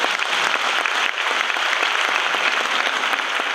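Audience applause at a community health officers' summit, a dense, steady clapping from a large crowd that fills the hall without pause for several seconds.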